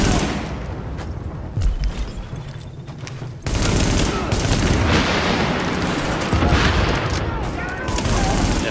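Dense gunfire and explosions from the tactical shooter game The Division, a steady fusillade that jumps louder after a few seconds and stays intense, with a voice faintly mixed underneath.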